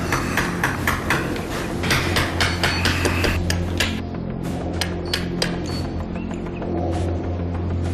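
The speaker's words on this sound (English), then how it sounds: "As soon as Andre chisels some of the root of that canine out" Sharp, repeated metallic taps of a dental chisel working the root of a chimpanzee's broken canine tooth, close and steady over a low mechanical hum throughout.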